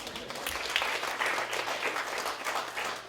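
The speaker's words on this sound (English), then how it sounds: "Give yourselves a round of applause." Workshop audience at a college tour event applauds themselves, a continuous, even wash of many hands clapping at moderate volume throughout, with no talk.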